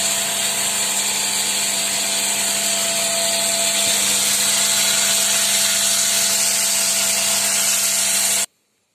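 A power tool grinds a traditional Yakut knife sheath, a loud continuous high-pitched whine held steady for several seconds before cutting off abruptly into silence.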